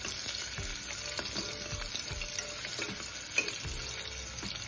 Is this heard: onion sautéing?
yes